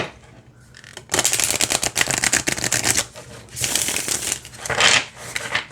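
Tarot cards riffle and shuffle in quick rapid bursts, crisp and close, with brief pauses between rounds.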